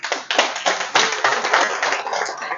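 An audience at a New York fundraiser for a Lahore cancer hospital breaks into loud, sustained applause, a dense patter of many hands clapping steadily throughout with slight swells.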